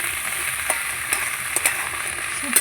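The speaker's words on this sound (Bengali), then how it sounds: "এবার দেবো লবণ, একটু হলুদ দিয়ে ভালো করে এবার আমি ভাজবো সবাই মিলে" Dried fish frying with potato, spring onion and onion, seasoned with salt and turmeric; a steady close sizzle runs throughout, broken by a few sharp crackles and spatters.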